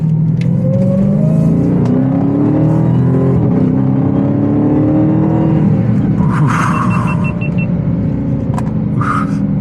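Loud, close roar of a Dodge Charger Hellcat Widebody with a 717-horsepower engine, its rising pitch climbing steadily through hard acceleration.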